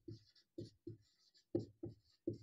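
Pen or marker writing on paper or board for a math lesson, short close scratchy strokes in quick irregular bursts with brief pauses between them.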